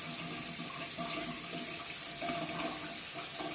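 Hot water running steadily from a tap into a sink, a continuous loud close rush of water with no break.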